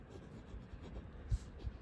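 Quiet scratching of a pen or marker writing numbers during a class 5 maths lesson, faint soft strokes with a few light taps, heard close and alone.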